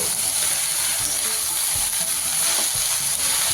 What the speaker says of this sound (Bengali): জল ছড়িয়ে রাখা কুচনো বাঁধাকপি আবার সমস্ত কিছু ভালোভাবে একটু ধৈর্য ধরে মিডিয়াম টু হাই ফ্লেমে মিশিয়ে নেব